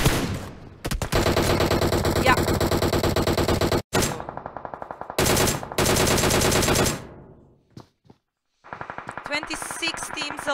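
Long bursts of automatic gunfire from the mobile battle royale game PUBG Mobile, loud rapid volleys broken by short gaps, followed by a few isolated shots and a choppier final stretch of fire.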